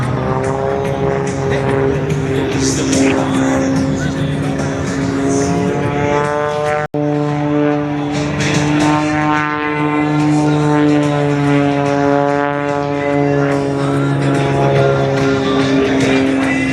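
A Lockheed 12 twin-engine propeller airplane flying at the RAAF airshow at Edinburgh air base in South Australia gives a steady, loud droning engine hum with slowly shifting pitch, continuous throughout.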